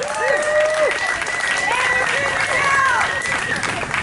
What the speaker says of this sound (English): So give yourselves a big round of applause if you were with us in Richmond yesterday